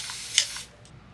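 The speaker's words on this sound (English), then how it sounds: "I'm just gonna spray this cotton pad with water." A short burst of water sprayed from a bottle onto a cotton pad, a soft close hiss lasting about half a second with a brief click, then quiet.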